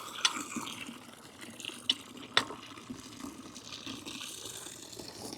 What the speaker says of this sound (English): I hear it gurgling.